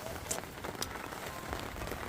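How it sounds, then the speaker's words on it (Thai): Heavy rain with strong wind at a cold campsite, a faint steady patter and hiss of rain on surfaces with scattered drop hits, continuous and low in level. "วันนี้นะคะฝนตกลมแรง"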